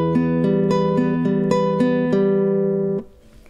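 Classical guitar plays the opening of part B of a gentle lullaby: plucked notes in a slow, even pulse over a sustained bass, close and clear, with the last note cut off as the phrase stops.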